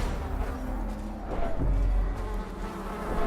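Dense swarm of insects droning from a burning hive in the Darkest Dungeon video game, a steady continuous buzz with low rumbling undertones that holds fairly loud for the whole stretch, with no voices.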